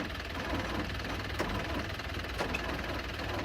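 The starter motor of a harvesting machine with a weak battery cranks the engine without it catching, a sustained low mechanical grinding drone with faint periodic pulses, close and steady throughout.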